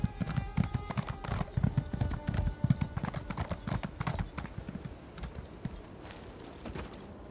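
Horse hooves clip-clop in a steady rapid rhythm in The Elder Scrolls Online on PS4 Pro, quiet and even, with no talking.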